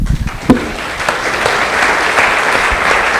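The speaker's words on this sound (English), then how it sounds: "giving yourselves a round of applause" Audience at an Ojai Chautauqua community talk event applauding, steady dense clapping filling the room for the whole stretch, fairly loud and close with no talk over it.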